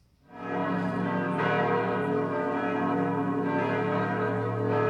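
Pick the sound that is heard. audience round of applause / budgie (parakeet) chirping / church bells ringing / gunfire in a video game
church bells ringing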